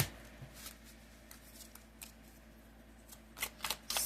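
A Celestial Moon tarot deck being shuffled by hand, soft papery riffles and slides that grow into louder, quicker card flutters near the end, close up with no speech.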